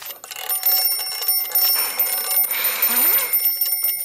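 Alarm clock ringing in the puzzle video game Chuchel, a steady bright metallic ring with a short rising tone near the end, fairly loud and without speech.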